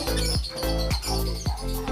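Caged birds call at a bird farm in a loud, close series of sharp squawks and tweets, repeating every half second or so over a steady hum of other birds.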